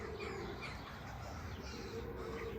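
Several crows caw near a pigeon-flying loft during a bird's first flight, their calls scattered over a steady noisy outdoor background with no talk.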